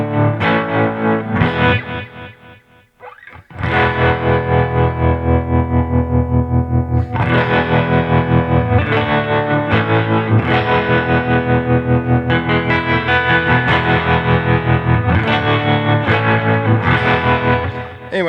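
Electric guitar run through an effects pedal turned to high intensity, heavily distorted and swirling with chorus-like modulation; loud sustained chords play throughout, broken by a brief drop near the start.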